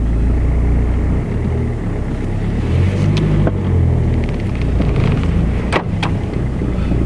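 A Renault Clio 3 creeps forward on the clutch alone, giving a steady low engine and road rumble with wind buffeting, close and fairly loud, with a couple of brief clicks near the end.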